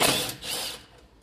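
Ratchet working 8 mm AC condenser mount bolts loose on a 6.0L truck, giving a quick burst of close mechanical clicking and whirring that fades within about a second.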